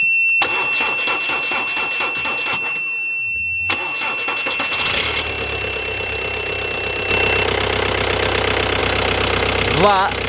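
An Audi A4 TDI diesel engine cranks and starts after a charger's steady buzzer tone, catching with a loud rumble and settling into a steady, close idle.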